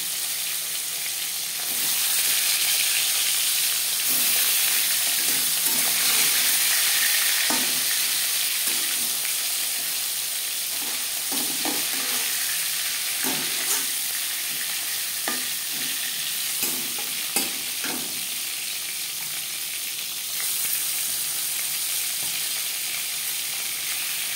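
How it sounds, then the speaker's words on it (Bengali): Marinated fish frying in refined oil in a pan, giving a steady close sizzle that rises as the pieces go in, with occasional crackles and stirring clinks throughout. "এবার দিয়ে দেব ম্যারিনেট করে রাখা মাছ। আমি রান্নাটা রিফাইন্ড অয়েলে করছি"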